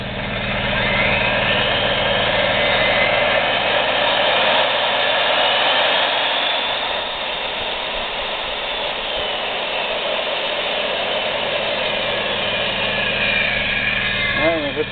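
A Milwaukee 30214 magnetic base drill press runs forward at variable speed, giving off a loud, steady motor whir that holds for the whole stretch and eases slightly partway through.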